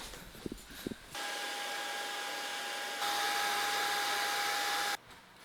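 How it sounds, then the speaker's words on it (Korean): A hair dryer, used to thaw a freezer during a repair, roars with a steady high whine, switching to a louder setting partway through, then cuts off after about four seconds. "앞에서는 선풍기 바람 쬐고 뒤에서는 이 드라이기로 또 지져야 되겠다"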